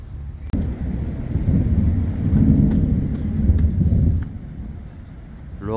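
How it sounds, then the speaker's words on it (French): A low, heavy rumble of thunder swells and rolls for several seconds before fading, with wind noise over it, in the mountains of the Swiss canton of Valais. "L'orage gronde, la pluie approche."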